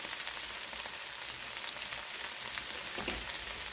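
Okra and shrimp frying in a pan over lowered heat, a steady close sizzle and crackle with no one talking.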